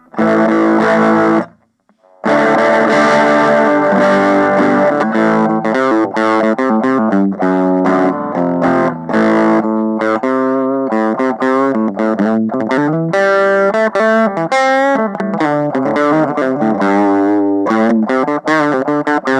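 Electric guitar played through a Marshall MS2 micro stack amp with tone and volume at maximum, heavy fuzzy distortion, a steady run of sustained, buzzing notes and chords after a brief pause near the start.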